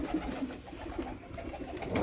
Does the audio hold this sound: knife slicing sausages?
no